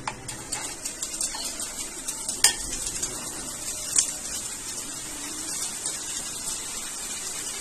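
Boondi frying in oil for mishti bundiya, a soft steady sizzle under clinking of a metal ladle against the pan, with a couple of sharper knocks.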